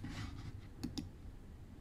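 A computer mouse is double-clicked: two quick, faint, crisp clicks close together over a quiet room background.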